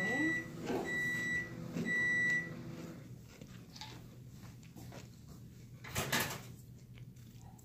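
Microwave oven heating butter in a bowl, with a steady low hum under three evenly spaced bright beeps at the start, then quieter running noise and a brief clatter near the end.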